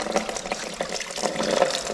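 Water mixed with old oil pours and splashes steadily from a neglected Corvette engine onto the floor, a continuous close gurgling stream.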